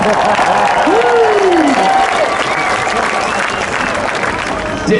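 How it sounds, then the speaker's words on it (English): A crowd applauds steadily at a charity stunt event after a new RZR side-by-side flips, with dense clapping and cheering lasting the whole stretch and a voice rising briefly above it. "Give them a round of applause."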